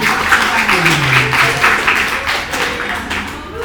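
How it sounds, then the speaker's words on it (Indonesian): Lecture audience applause fills the room, dense overlapping claps in a steady loud patter that slowly tapers off toward the end. "Tepuk tangan."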